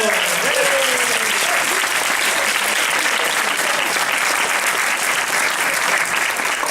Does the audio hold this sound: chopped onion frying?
no